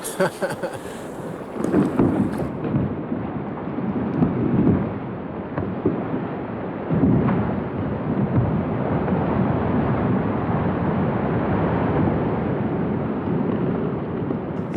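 Deep rumbling as big chunks of glacier ice calve off the terminus in Alaska and crash, a long low roar swelling and fading over steady wind buffeting the microphone.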